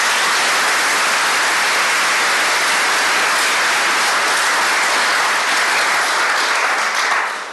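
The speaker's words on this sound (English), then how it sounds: "Let's give our panelists a round of applause." Audience applauding a panel of speakers at a public talk on Hawaiian naming and the Event Horizon Telescope: loud, dense, sustained clapping that stays level for several seconds and fades slightly at the end.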